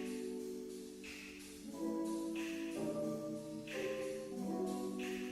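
A song run through a convolution effect with a random impulse response plays quietly: sustained, smeared tones that change pitch every second or so, with no one speaking.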